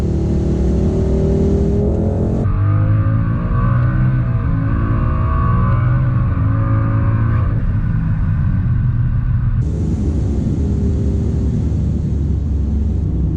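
A 2018 Ford Mustang fitted with a truck engine runs steadily with a deep, continuous rumble, rising in pitch as it revs and then settling back down, loud and close throughout.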